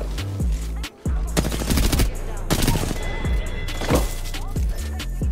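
Gunfire in the video game Apex Legends: rapid automatic bursts from a rifle, loud and close, broken by short pauses, with faint game effects and a voice briefly underneath.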